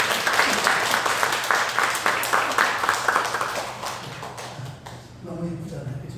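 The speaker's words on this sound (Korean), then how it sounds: "우리 박수로 한번 하는 거예요." A church congregation applauds steadily, a dense wash of clapping that fades toward the end as a voice begins speaking.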